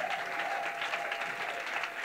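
A church congregation applauds and cheers for the Lord, dense steady clapping from many hands filling the whole short stretch at even loudness.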